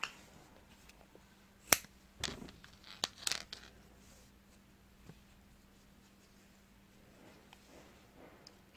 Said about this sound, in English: Then you're going to cut your yarn